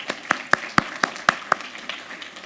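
Scattered, rhythmic clapping in a church, about eight distinct sharp claps in a slow steady beat that thin out and fade, sounding like a small group rather than full applause.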